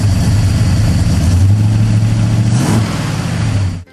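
A car engine running rich revs with a loud, throaty, rumbling tone that swells, holds steady, then dips sharply just before the clip ends.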